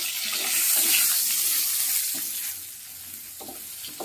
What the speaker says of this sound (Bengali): আলুটা একটু আগে দিয়ে একটু ভাজা ভাজা করে দেবো প্রথমে